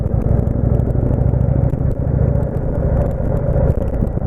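Low road rumble from passing traffic heard from inside a moving vehicle, a steady close drone with no speech.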